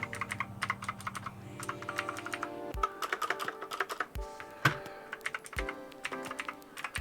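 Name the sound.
typing on Havit KB389L keyboard with blue mechanical switches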